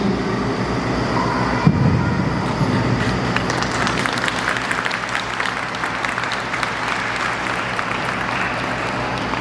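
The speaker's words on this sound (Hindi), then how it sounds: "ये तालियां तो बहुत कम है।" Applause from a seminar audience at a Sahaja Yoga health and medical seminar in Ghaziabad, a steady wash of many hands clapping for several seconds in a reverberant hall.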